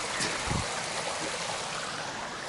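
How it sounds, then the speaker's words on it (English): A small mountain creek runs past a bunkhouse cabin on the Appalachian Trail in North Carolina or Tennessee, giving a steady, close, full rushing babble of water with no voices over it. "Beautiful little creek."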